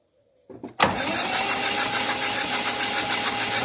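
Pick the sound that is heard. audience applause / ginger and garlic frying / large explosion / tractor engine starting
tractor engine starting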